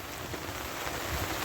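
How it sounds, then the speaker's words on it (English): Steady rain falls on a farm during harvest season, a dense, even wash of drops hissing across surfaces without a break for the short stretch, with no voices. "It is raining."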